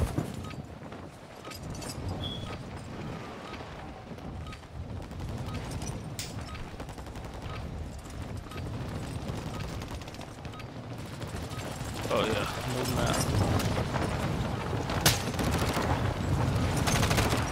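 Sniper and other gunfire in a Call of Duty Warzone match, steady cracks and bursts spread through a dense, busy game soundscape, growing louder and fuller in the latter half.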